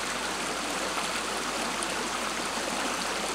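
Steady rush of stream water flowing down from Mount Kilimanjaro, a dense continuous broadband babble with no pauses, close and fairly loud, no voices.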